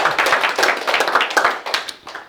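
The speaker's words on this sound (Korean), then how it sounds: "유익하다고 생각하면 박수 한번 쳐주시기 바랍니다." Audience applause after a lecturer asks for a clap during a Korean talk on emotion coaching for couples: dense, continuous clapping from many hands, fairly close and loud, with no speech over it.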